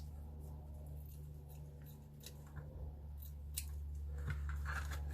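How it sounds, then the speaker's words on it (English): Scissors snip a small piece of paper for a handmade ephemera folio, giving a few soft, close cuts over a low steady hum, with no talking. "Let's cut a small piece for this."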